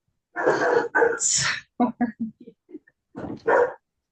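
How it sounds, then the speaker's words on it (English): A dog barks and yips in a series of short, close bursts mixed with whimpers, during a tech talk recorded at home. "we don't mind the dog"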